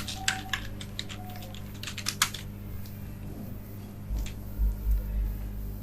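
Someone types a web design search query on a computer keyboard: a quick run of light, close key clicks for about two seconds, followed by quiet room hum.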